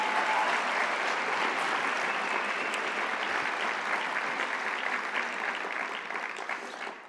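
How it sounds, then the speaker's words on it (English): Dense, sustained applause from a large audience at a UC Santa Barbara evening talk, steady and loud before fading slightly at the end. "And y'all are applauding."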